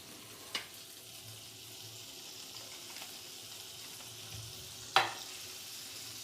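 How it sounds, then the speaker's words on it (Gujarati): Butter heats in a pan for white sauce pasta with a soft, steady low sizzle, quiet and close, broken by two sharp utensil clicks. "બટરને ગરમ કરી દેવાનું."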